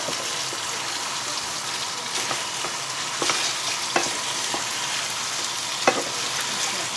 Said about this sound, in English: So for 5 minutes, we are going to give this a good stir.